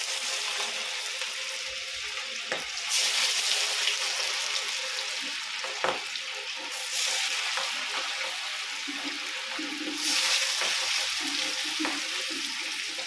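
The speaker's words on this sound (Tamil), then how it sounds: "எண்ணெய் காஞ்சிடுச்சு இப்போ மீனை குள்ளே போகிறோம்" Steady crackling sizzle of fish frying in hot oil, swelling louder in a few bursts, with occasional clinks of a utensil and no talking.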